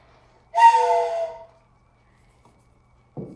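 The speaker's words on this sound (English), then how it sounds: "I have my famous whistle." A single sharp whistle blast, loud and close, held for about a second at a children's story time, then silence and a brief soft noise at the end.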